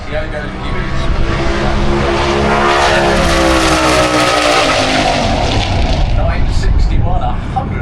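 A drag racing car launches hard down the strip at a Doorslammers event, a loud, sustained engine roar filling the whole stretch with rising harmonic pitch and little variation in level.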